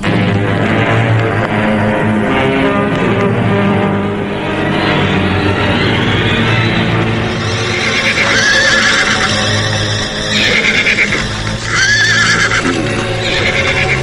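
Horses neigh repeatedly in loud, close whinnies, with clip-clopping hooves mixed in. The calls rise and overlap across a steady, busy background.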